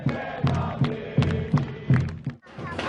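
A crowd of Corinthians football fans outside a stadium in Japan chanting and pounding in a rhythmic, regular beat, with loud group voices pulsing roughly every third of a second before a brief drop.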